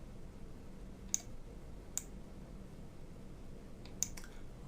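Three faint, crisp computer mouse clicks, spaced irregularly, stand out against a quiet room hum with no talking.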